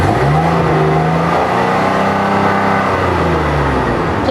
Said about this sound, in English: making excessive noise on the streets with motorcycles, cars, and illegal dirt bikes